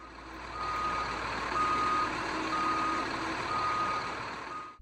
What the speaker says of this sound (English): backing up the truck, loading up my bags